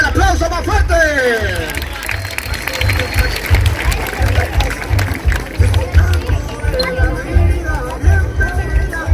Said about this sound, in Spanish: ¡Venga, el aplauso más fuerte!